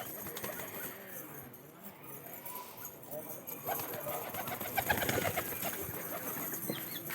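Domestic pigeons coo softly while being handled, their low murmurs mixed with rustling and brief wing flutters, and a person talks over them.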